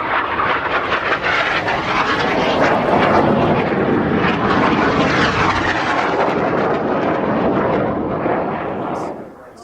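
Synchro pair jet aircraft making an opposition pass with barrel rolls at an airshow, a loud roaring rush that builds, holds and then fades away, with an announcer's voice faintly beneath.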